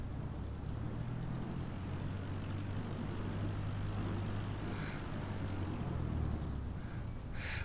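A steady, droning airplane engine in Microsoft Flight Simulator 2020 hums continuously at a low pitch, with a faint quacking-like chirp briefly appearing near the end.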